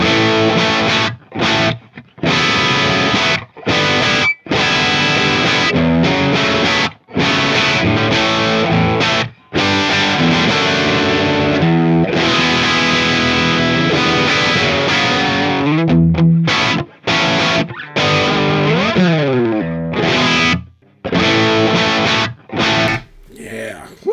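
Loud, heavily distorted electric guitar through a slant speaker cabinet with Vintage 30 and Greenback speakers, riffing with chugging chords and brief choppy stops, thick and up close.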